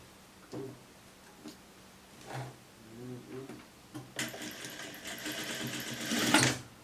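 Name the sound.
sewing machine stitching a sweatshirt skirt seam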